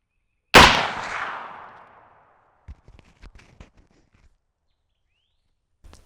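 A single loud Winchester Model 94 lever-action rifle shot fired at a 100-yard range, a sharp crack with a trailing decay, followed by faint scattered clicks and handling noises.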